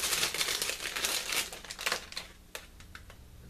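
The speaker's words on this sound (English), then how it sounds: "let me cut the bag open here" Plastic bag holding a 1:35 Takom St Chamond model kit being cut and handled, with close crinkling and rustling followed by a few sharp small snips and taps.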